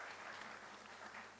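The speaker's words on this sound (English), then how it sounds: "So I would request for a big round of applause for all these dignitaries," Faint, steady applause from an audience at a startup summit in Chandigarh, honoring dignitaries. The sound is distant and continuous, with no speech over it.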